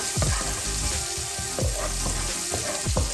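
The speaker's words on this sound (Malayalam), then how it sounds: "നമ്മൾ സ്പ്രിംഗ് ഓണിയൻ്റെ വൈറ്റ് ഭാഗമാണ് നമ്മൾ ആദ്യം ഇടുന്നത്." Garlic and spring onion whites sautéing in hot oil for prawn fried rice, a steady close sizzle with repeated stirring scrapes and bursts of spatter throughout.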